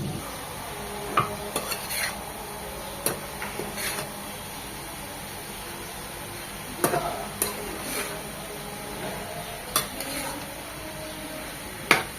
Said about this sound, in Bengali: এই বাঁধাকপি ভাজিতে আস্তে আস্তে নরম হবে আর কমে যাবে একদম ভাজা ভাজা করে নেবো